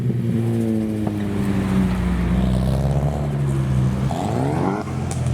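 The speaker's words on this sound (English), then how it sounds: "the S15 revved over there" A Nissan S15 sports car engine drones and climbs in pitch as it revs, then drops and revs again, loud and steady with other Japanese cars' engines around at a car meet roll-out.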